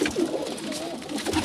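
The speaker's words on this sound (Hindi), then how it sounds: "ये देखें जी ये कबूतर हैं सारे इनके" Caged breeder pigeons coo in soft, rolling throaty calls, several birds close by and overlapping, with a little rustling between the coos.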